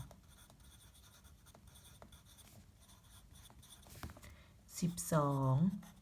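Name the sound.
writing out a math problem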